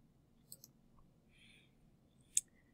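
Soft mouse clicks sound in a quiet room as a recording is stopped in Soundtrap, a pair of light clicks early on, then a single sharper click near the end.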